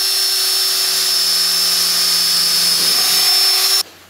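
A power drill runs steadily at high speed while boring a hole to mount a twin-legged Pletscher bicycle kickstand, a loud continuous whine that cuts off abruptly near the end.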